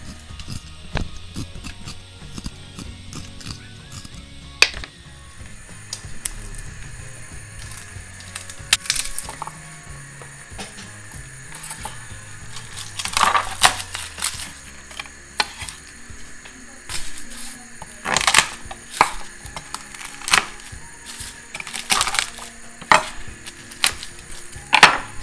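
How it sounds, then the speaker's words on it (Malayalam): Ginger, garlic and onion are chopped finely with a knife on a board in a home kitchen. Irregular sharp knocks and clicks come in scattered bursts, growing busier and louder over about twenty-five seconds against a quiet background. "ചെറുതായിട്ട് അരിഞ്ഞെടുക്കുക."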